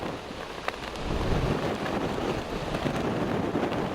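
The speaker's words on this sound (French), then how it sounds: "et j'ai le vent de face." Headwind roaring across the microphone of a cyclist riding toward Carcassonne, a continuous broadband buffeting rumble with gusty low-end thumps, loud and steady throughout with no voices.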